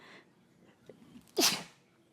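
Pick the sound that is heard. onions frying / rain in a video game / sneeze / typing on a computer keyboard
sneeze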